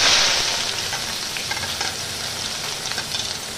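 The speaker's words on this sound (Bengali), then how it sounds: "এখানে আমি তেল দিয়ে দিয়েছি আর এর মধ্যে দিয়ে দিচ্ছি পেঁয়াজ কুচি" Chopped onion hitting hot oil, a loud burst of sizzling at the start that settles into a steady close crackle with light stirring.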